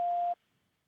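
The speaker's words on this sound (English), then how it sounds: "Please leave your message after the tone." A single voicemail beep after a recorded message, one clean steady tone of about a third of a second, then silence.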